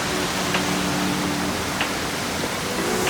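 Waterfall in southern Iceland, a broad, steady roar of rushing water close by that fills the whole stretch, with faint tonal hints over the top and no talk.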